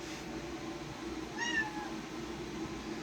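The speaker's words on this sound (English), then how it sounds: "My cat's trying to attack me while my dad's doing this." A pet cat gives a single short meow in the middle, close by, over a steady background hum, with no talking.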